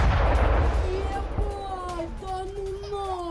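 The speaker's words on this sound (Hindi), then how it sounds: "ड्रोन हमले से प्लांट के नजदीक इमारत में धमाका हुआ है" Explosion from a drone attack on a building near a nuclear power plant in news footage: a loud, broad rumbling blast at the start that fades into distant ambience with faint tonal calls.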